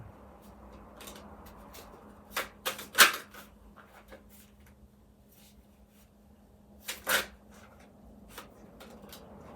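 Tarot cards are shuffled close by in quiet bursts, soft riffling flutters with two louder clusters of rapid snapping shuffles, and no talk.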